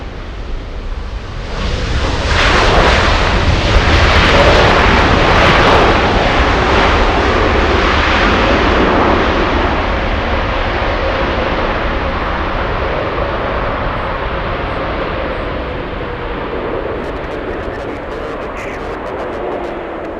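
A Boeing 787-8 jet airliner takes off from LAX, its engines building to a loud broadband roar that slowly fades as it climbs away, heard alone without talk.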